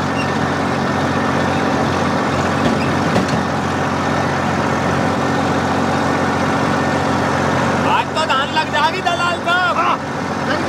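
A tractor's diesel engine running at a steady idle throughout, loud and close, with rural voices talking over it near the end.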